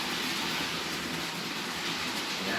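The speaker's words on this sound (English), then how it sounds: "which is a Hornby Class 66 in Freightline livery, which I should just introduce now as it comes out of the tunnel" A Hornby Class 66 model locomotive in Freightliner livery, DCC fitted, running on a model railway track as it leaves a tunnel, giving a continuous close rumbling hum with faint rhythmic clicking and no voices.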